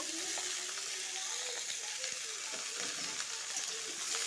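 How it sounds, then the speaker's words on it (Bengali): Ridge gourd poured into a hot pan, giving a steady, bright sizzle that hisses continuously throughout at a moderate level, with faint clinks underneath and no talking. "ঝিঙ্গাটা এখন ঢেলে দিব।"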